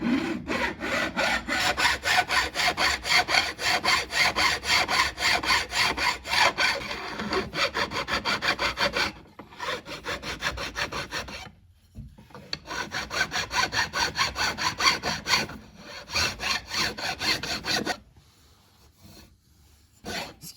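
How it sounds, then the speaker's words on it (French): A metal file rasps steadily across guitar frets to level them flat, a continuous close scraping in long back-and-forth strokes with a few short pauses between passes. "maintenant, je vais limer simplement à plat toutes ces frettes"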